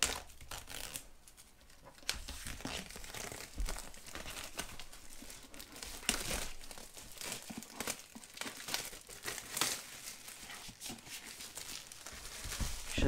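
Plastic blister packaging around a pair of noise-cancelling headphones is crinkled, cracked and torn open, with continuous close crackling and occasional sharper snaps.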